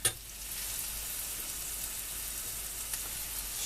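Mushrooms frying in a pan give a steady, bright sizzle at moderate volume throughout, with a brief clatter at the start and a faint tap near the end.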